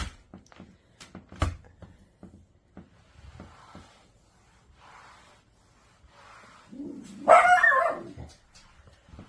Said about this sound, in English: Sorry for my dog barking because somebody pulled in